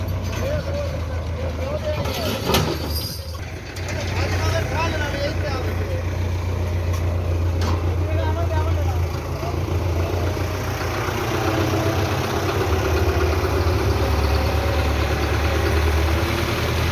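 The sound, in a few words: Belarus 510 tractor engine running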